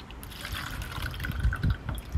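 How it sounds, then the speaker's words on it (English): Apple cider vinegar poured in a thin stream into a bottle in a garden setting, a soft trickling liquid sound with small splashy surges near the end, close and fairly quiet with no talk. "Then you get your apple cider vinegar and just pour a little bit of that into your bottle."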